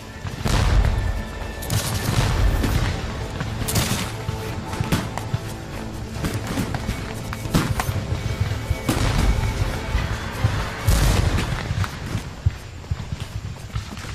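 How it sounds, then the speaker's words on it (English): Union musket volleys crash out during a nighttime Civil War battle at Gettysburg in 1863, loud ragged bursts of gunfire repeating across the whole stretch with booming blasts and a dense battle din underneath. "the crash of Union muskets breaks out on our right."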